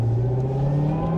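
Supercharged C7 Corvette Z06 engine with a steady, loud supercharger whine riding over a constant low engine drone, heard close up from inside the car, with no talk.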